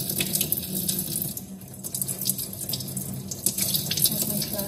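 Tap water running into a sink while fabric samples are wetted before natural dyeing, a steady close splashing stream with shifting gurgles.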